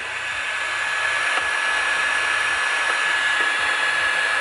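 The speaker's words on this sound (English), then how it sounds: "So now we'll just preheat the casing to aid fitting of the bearing." A heat gun blows with a steady whining roar while preheating a Lambretta Mugello 200 scooter engine casing before a bearing is fitted, a close, constant airflow hum with faint knocking underneath.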